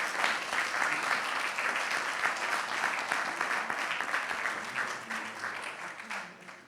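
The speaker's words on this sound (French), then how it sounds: "Je vous demande d'applaudir les participants à notre deuxième table ronde." An audience at a round-table conference session on Polynesian restaurant awards applauds in a dense, sustained wash of clapping that holds steady, then gradually fades toward the end.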